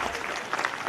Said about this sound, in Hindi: ताली उनके लिए।